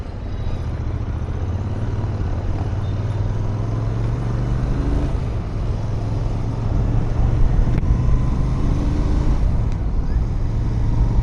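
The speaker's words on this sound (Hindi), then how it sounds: "Some traffic for you guys to see." Road traffic in Delhi gives a steady, loud wash of engine rumble and tyre roar. It continues without a break, with no distinct horn or single vehicle standing out.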